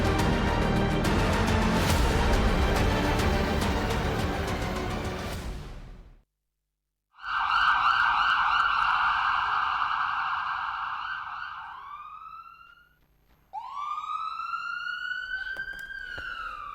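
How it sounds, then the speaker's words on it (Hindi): A loud air raid warning siren wails in long rising and falling sweeps during a mock drill, cutting out briefly twice before starting up again, with a noisy rumble before it begins. "युद्ध का सायरन तैयार हैं हम।"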